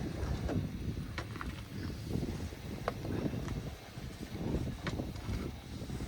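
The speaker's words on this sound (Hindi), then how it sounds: "क्योंकि भाई हवा चल रही है और मौसम हो गया ख़राब।" Steady wind roars across a snowy mountain road on the Manali to Leh route during heavy snowfall, a continuous low rumbling gust with buffeting on the microphone and no talk.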